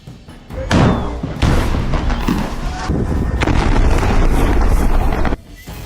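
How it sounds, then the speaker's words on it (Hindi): Artillery bombardment and explosions in southern Gaza around Khan Younis and the Rafah crossing: repeated heavy booms and rumbling blasts follow each other closely, loud and continuous, with wind buffeting the microphone. "अब इजरायल दक्षिणी गाजा में भी रफा क्रॉसिंग और खान यूनुस पर भयंकर बमबारी कर रहा है"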